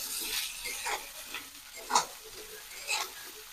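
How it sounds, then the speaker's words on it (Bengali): Taro stolons are stirred in a pan with softened onion and green chili, a few soft scraping strokes over a quiet sizzle, close by with no talk. "এবার আমি দিয়ে দেবো আগে থেকে কেটে রাখা কচুরলতাগুলো। দিয়ে আমি সুন্দর করে নাড়াচাড়া করবো।"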